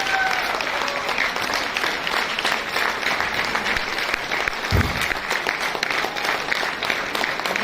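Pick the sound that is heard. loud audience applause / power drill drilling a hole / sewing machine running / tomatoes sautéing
loud audience applause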